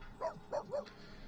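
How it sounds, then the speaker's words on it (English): A dog in The Sims 3 gives three quick, close barks spaced about a third of a second apart. The barks are high and yappy and sound fairly quiet overall. "she's being barked at by the dog."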